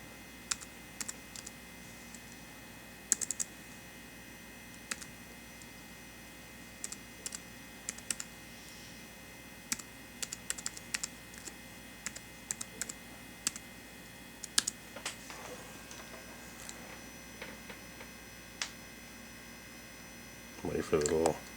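A password being typed on an iMac keyboard: sparse, quiet keystroke clicks in irregular bursts over a low room hum, with some talking.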